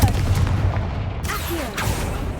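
A Confringo blasting spell goes off in a Harry Potter video game, a loud sustained explosive rumble with crackling debris bursts running through the whole moment, up close.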